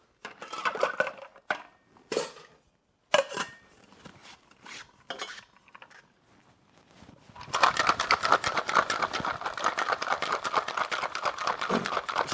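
Ice goes into a cocktail shaker for a spicy jalapeno vodka cocktail. First come scattered clinks and knocks as the cubes drop in, then a loud, fast, steady rattle of the ice being shaken hard.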